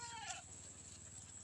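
A goat on a farm gives one short, faint bleat in the first half-second, followed by a steady low hum of ambient noise.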